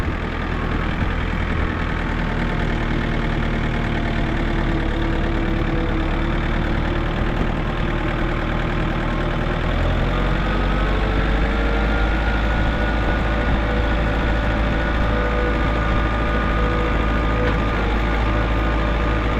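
A John Deere 110TLB backhoe engine runs continuously while the machine drives and turns, a loud, steady diesel drone with a deeper low rumble building partway through.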